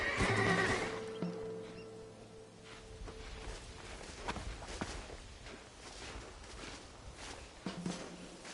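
A horse whinnies loudly at the start in Red Dead Redemption, followed by hoof clops and shuffling footsteps against a quiet outdoor background near cliffs.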